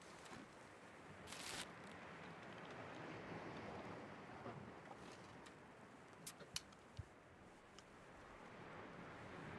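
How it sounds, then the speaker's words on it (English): Ocean surf rolls steadily along a coastal map in a video game, a continuous washing roar with a gusty, windy edge and a few faint clicks near the end, with no talking over it. "Love the sound of the waves in these coastal maps."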